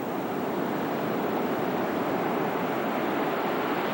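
Rough ocean surf on Daytona beach, with swells around six to eight feet crashing ashore, makes a continuous broadband roar that stays steady and fairly loud throughout, with no voices.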